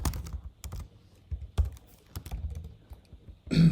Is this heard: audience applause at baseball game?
no